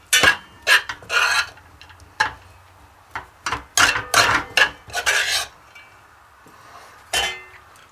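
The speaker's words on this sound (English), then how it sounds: "we're going to fluff the rice." Cooked rice being fluffed in a pot with a metal utensil for a grilled chicken burrito, giving a series of close scraping and clinking strokes in uneven bursts, with no talk.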